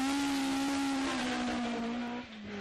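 A rally car at the Jersey Rally 2011 works through a tight hairpin, engine droning loud and steady at high revs before easing off as it exits the corner.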